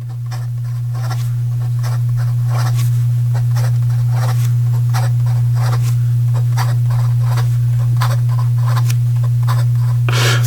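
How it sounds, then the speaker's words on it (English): Fast handwriting with an extra fine nib fountain pen using Colorverse Gluon ink, giving a run of quick close scratchy strokes in rapid bursts over a steady low hum. "we'll just say some fast writing here for the Colorverse Gluon"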